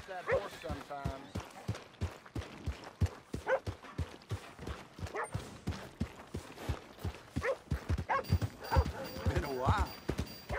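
Steady clip-clop of horse hooves in the video game Red Dead Redemption 2, a regular quick rhythm running throughout, with a voice speaking over it.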